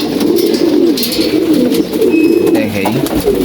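Pigeons coo repeatedly close by as they feed on grain, with soft rhythmic throaty calls over light background rustle.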